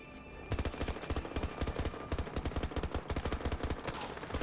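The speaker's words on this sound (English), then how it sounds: "Using an SMG at long range works really well" Rapid bursts of SMG fire in a first-person shooter, sharp repeated shots in quick irregular volleys running almost continuously, loud and close in the mix with no talk over them.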